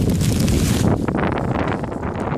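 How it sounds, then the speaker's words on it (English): Wind buffets a microphone outdoors, a loud continuous rumbling roar that fills the whole stretch and eases slightly partway through. "Sorry about the wind, guys."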